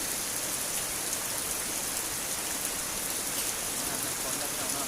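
Rain pours down continuously as a dense, even wash of hissing noise, with no voices and no breaks in it.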